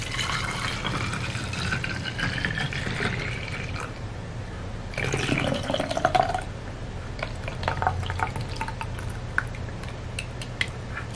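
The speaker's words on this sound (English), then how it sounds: "Let's pour the mixture in." Hand sanitizer mixture with aloe trickles through a funnel into a bottle, a close, wet gurgling pour that swells midway and then fades into scattered drips and small clinks.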